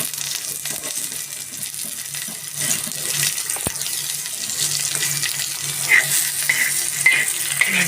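Onions frying in oil in a pan, a soft continuous sizzle with faint stirring, fairly quiet and steady, without talk.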